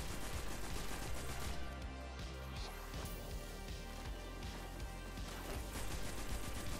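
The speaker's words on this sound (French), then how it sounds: "Oh, c'est qui me tire dessus là-haut?" Sniper gunfire in the game Destiny 2, a dense, loud battle soundscape of repeated shots and crashing impacts layered over a steady low rumble throughout.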